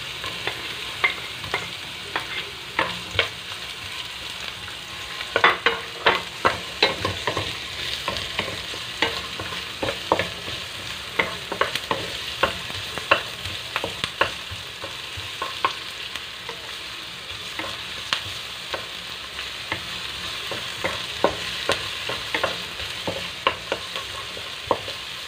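Onions being stirred and fried in a hot pan for Mongolian pork, with a steady sizzle broken by repeated scraping strokes of a utensil against the pan, close and continuous with no talking.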